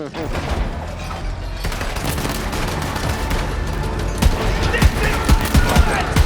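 Guns firing in a video game, a loud, near-continuous volley of rapid gunshots and booms with sharper bursts toward the end, with voices talking over the gunfire.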